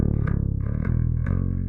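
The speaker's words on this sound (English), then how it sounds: "Especially on the lower notes, you can hear like the compression and the slight distortion." Bass guitar played through a Quad Cortex with compression and slight distortion, three low plucked notes in quick succession, each with a sharp attack and a thick, sustained, gritty tone.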